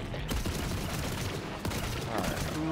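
Dense, continuous gunfire in the Borderlands 3 video game, a steady rattling fusillade of rapid shots that fills the whole moment with no break, played loud and close with no voices over it.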